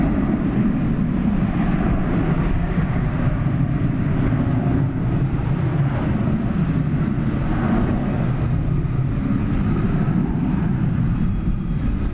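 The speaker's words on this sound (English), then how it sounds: "Off to Fresno, Airbus A321." An Airbus A321 departing Dallas/Fort Worth International Airport for Fresno roars loud and close, a sustained, slightly rumbling engine thunder with no voices.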